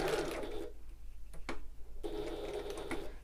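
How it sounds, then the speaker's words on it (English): A sewing machine stitches across the width of a tote bag, then reverses back over the seam: a loud whirring run, a brief pause with a couple of clicks, then another steady burst, with no talk. "sewing across the width. And back again, just for a bit of extra stability."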